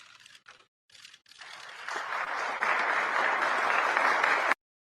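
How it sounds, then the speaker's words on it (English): Applause at the Saudi Investment Forum starts with a few scattered claps, then swells into dense sustained clapping from a large crowd before cutting off abruptly. "Applause, big smiles."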